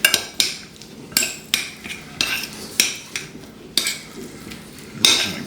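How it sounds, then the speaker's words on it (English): Ingredients for Texas Twinkies with smoked cream cheese being mixed in a bowl: a utensil knocks and scrapes against the bowl in a steady series of close, sharp strokes about twice a second, with no talk. "Give this a good mix."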